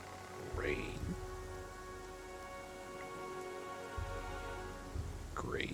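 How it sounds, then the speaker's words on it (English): Rain in the video game Pathfinder: Kingmaker, a steady hiss of rainfall with a low rumble underneath, continuous and even, with short whooshing in-game effects at the start and end and voices in the background. "Rain."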